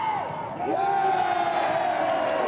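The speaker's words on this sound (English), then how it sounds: "the cheers from behind the crowd are from South Australians" Crowd of South Australian football fans cheering and roaring from behind the goal, a sustained loud mass of voices swelling after a brief dip, with a rising whoop cutting through.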